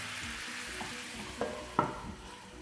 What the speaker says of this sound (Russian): все сейчас закроем крышкой и протушим около 10 минут